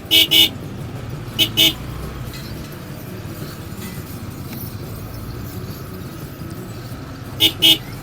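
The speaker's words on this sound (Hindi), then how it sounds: "हॉर्न देके कोशिश करते हैं शायद भाई रास्ता दे दें।" A car horn honks in short double bursts, twice early on and once more near the end, over the steady drone of a vehicle engine, on a road along the Line of Control from Kel to Taobat.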